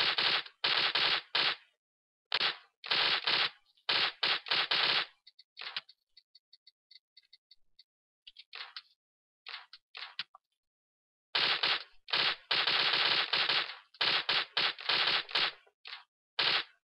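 Bursts of automatic gunfire in PUBG, loud close rattling volleys in rapid clusters, separated by silent gaps and a softer distant patter of shots in the middle.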